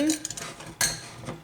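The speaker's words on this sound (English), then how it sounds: "I'm going to stir these round again" Mustard seeds, salt and pepper stirred in a pan with a metal utensil: a few sharp clinks and scrapes against the pan over a faint sizzle, close up.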